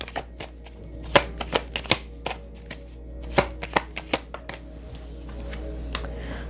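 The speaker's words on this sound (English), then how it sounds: "Let me pull some cards on that." Tarot cards shuffled and pulled from the deck, a string of sharp riffling snaps and flicks in uneven bursts, close and fairly quiet, with no talk.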